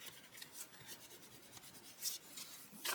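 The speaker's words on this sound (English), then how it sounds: "Give it a good burnish." Paper album page being burnished, soft quick rubbing strokes in a steady back-and-forth rhythm, faint and close, without talk.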